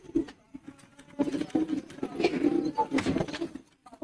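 Bearded pigeons cooing in a loft: repeated soft, throaty coos come in clusters, close by and fairly loud, with scattered clicks and faint background voices.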